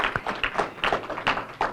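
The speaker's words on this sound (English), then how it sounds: "I want to hear some applause for that" An audience claps in short bursts. The claps come quick and close together and are fairly loud, with faint voices mixed in.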